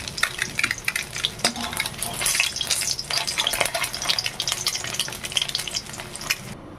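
Two boiled eggs fry in hot oil in a pan. A steady, close crackling sizzle runs throughout, broken by occasional scraping stirs, with no talking.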